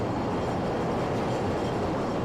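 A Chicago elevated train rumbles along the Loop tracks downtown, a dense, loud, continuous roar of wheels and cars filling the whole moment with no voices.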